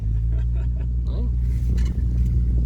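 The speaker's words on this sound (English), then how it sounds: "we got the car running. This is its first drive ever" A 1977 Toyota Celica RA28 engine idles and runs steadily on its first drive, a low continuous rumble close by, with faint voices over it.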